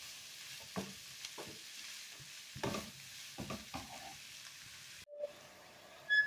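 Grated carrots and onions stew in a pan under a low, continuous sizzle, broken by several scraping stirring strokes. Near the end the sound cuts briefly and then comes back.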